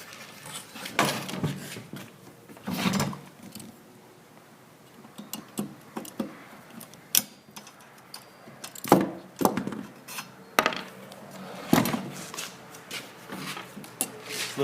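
Small metal Allen set screws being loosened and pulled from the sides of a Lones stone saw shoe, heard as scattered close clicks, taps and light metallic rattles with quiet pauses between them.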